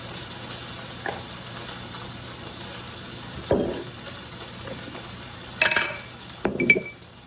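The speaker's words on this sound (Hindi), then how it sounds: "थोड़े सिंगदाने डाल रही हूँ। मेरा गैस यहाँ चल रहा है, मैं यहाँ फ्राई कर रही हूँ" Peanuts sizzle quietly in a pan over a gas stove, a soft steady frying hiss broken by a few louder clinks and scrapes of the pan.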